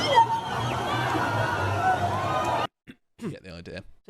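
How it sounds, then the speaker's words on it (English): Crowd of M23 supporters marching outdoors, a dense hubbub of voices, cheers and whistles for several seconds, then it cuts out into near silence with a few scattered voices. "hear them whistling and cheering, and sort of marching with them"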